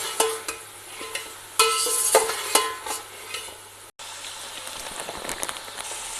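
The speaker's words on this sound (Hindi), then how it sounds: "ये गला हुआ गोश्त है, इसको हमने डाल के भूनना है इसमें अच्छी तरह।" Boiled beef frying and being stirred in a pot for a beef pulao, with sizzling and repeated scraping strokes of a spoon, close and fairly loud, no talking.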